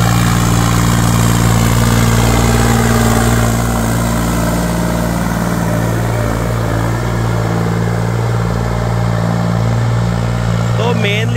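A modified tractor engine runs hard at high RPM, a loud, steady, droning hum with strong even harmonics that hold unbroken throughout, close to the machine.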